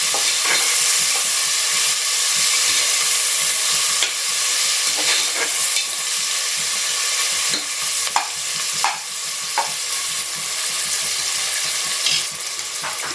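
Onions fry steadily in a pan for pea rice, a continuous close sizzle with occasional scraping and clinking as they are stirred, and no one speaking.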